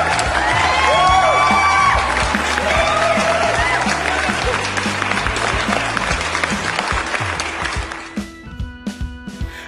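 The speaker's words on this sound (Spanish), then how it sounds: "muchas gracias por esos aplausos espontáneos" A lively live-radio crowd in Temuco breaks into loud, spontaneous applause mixed with cheers and whistles, dense and close, sustained for several seconds before thinning out into a few scattered claps.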